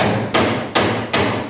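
Three evenly spaced metallic taps ring out as a small dolly hammer strikes a rusty 1978 Camaro body panel, each hit sharp and close, followed by a short fading ring.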